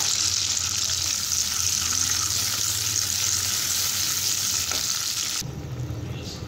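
Orange chicken sauce with sausages bubbles and sizzles in a pan over lowered flame, a loud continuous frying hiss with stirring, cut off abruptly near the end.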